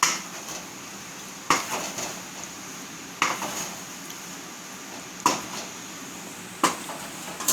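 A spoon periodically knocks and scrapes against a pot of jackfruit puzhukku as it is stirred, sharp clanks repeating roughly every couple of seconds over a steady background hiss.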